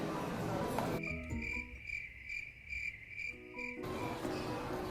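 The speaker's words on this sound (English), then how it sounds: "Crickets." Steady, high-pitched cricket chirping in a rhythmic pulsing pattern, fairly close and clear, with background noise before and after.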